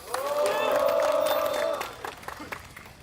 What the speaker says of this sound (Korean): 우리 동지항에 다시 한번 뜨거운 박수 함성 부탁드립니다